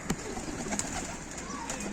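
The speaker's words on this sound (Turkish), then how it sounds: "Arkadaşlar iki tane kaçak güvercin var" Two stray pigeons coo softly outdoors, giving a couple of brief calls over a steady background hiss.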